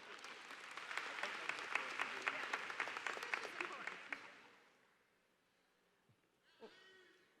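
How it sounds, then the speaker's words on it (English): Graduation audience at a high school commencement applauding, dense steady clapping for about four seconds that fades away, followed by a brief voice over the speakers. "Please give her a round of applause."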